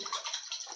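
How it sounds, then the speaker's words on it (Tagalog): A brief hollow splash of water being poured into a pot of pasta, a short watery rush up close. "Ilagyan ko ng tubig, luglugan ulit natin."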